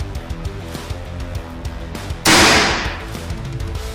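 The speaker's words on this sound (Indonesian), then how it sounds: "Oke, kita coba ya tembakan yang pertama." A single sharp Ultra X II air rifle shot, fired without a silencer at an outdoor range with silhouette targets at 27 meters. The loud crack stands out over a steady background drone.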